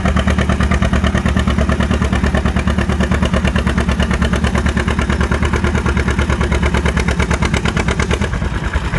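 A loud, heavy Model A tractor engine roars steadily without a break during a tractor pull, its rapid pulsing throb dense with low rumble and clatter.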